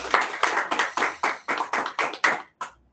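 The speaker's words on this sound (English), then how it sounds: "Let's give a round of applause to you." Meeting participants clap in a brief round of applause, about ten distinct, fairly close claps in a quick uneven rhythm, then one last clap after a short pause. No one speaks.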